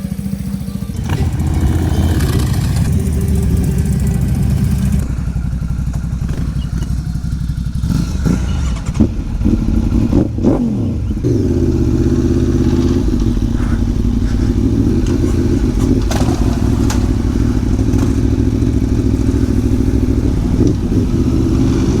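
An Aprilia Tuono V4 and a Ducati sit close by on a Sunday ride, their engines idling with a steady, loud rumble and repeated revs swelling over about twenty seconds of continuous noise.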